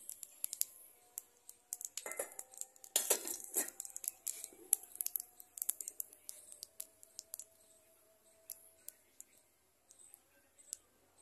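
Whole cumin seeds hitting hot oil give faint, scattered crackles and pops, busiest early on and thinning out toward the end.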